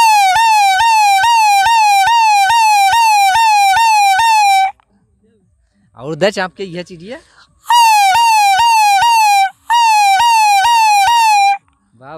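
A man imitates an ambulance siren with his voice, a loud rising-falling wail repeated in long steady bursts, broken once by a brief spoken aside before the wailing resumes.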